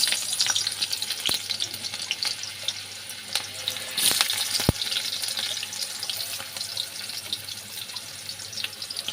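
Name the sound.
onions frying in hot oil in a wok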